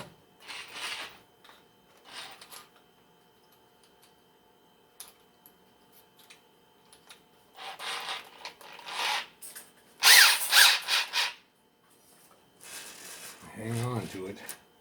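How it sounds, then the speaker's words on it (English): A power drill enlarges threaded holes in metal, running in a few short bursts of whirring and grinding, the loudest near the end, with quiet gaps between them in a workshop. "Now, do I dare put it in the drill?"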